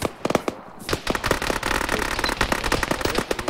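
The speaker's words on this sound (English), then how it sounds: "That is a lot of fire" Heavy gunfire in the video game Arma 3, on a jungle map: a dense stream of sharp rifle and automatic-weapon shots cracking in rapid, uneven bursts, loud and near, with barely a pause throughout.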